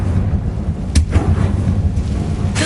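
A Confringo fire spell in Hogwarts Legacy bursts as a single sharp, loud blast, trailing into a brief crackle over a low ambient rumble, with a second softer burst right at the end.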